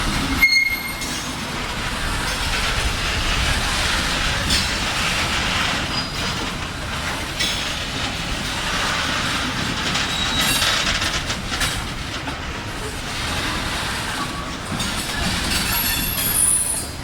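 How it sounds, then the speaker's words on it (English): A BNSF freight train rolls over a run of rail switches with a steady rumble, wheel clatter and occasional squeals. It is loud and continuous throughout, with no voices. "Going through all the switches. BNSF still creeping north up there."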